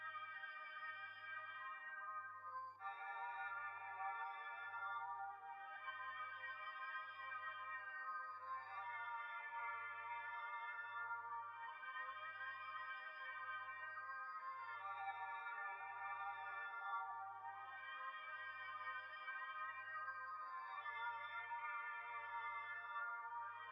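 Reversed lo-fi electric keys from FL Studio's Astral bank swell and fade in repeating chords over a soft, regular low pulse, quiet and dreamy with no voices.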